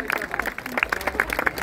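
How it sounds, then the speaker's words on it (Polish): Applause for the organizers at a Polish sport tournament award ceremony, a crowd clapping in a rapid scattered patter, fairly close, mixed with crowd babble. "Brawa wielkie dla nich."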